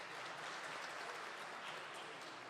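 Faint, distant-sounding applause during a plenary council session fills the whole stretch as an even, soft patter of many hands with no voices over it.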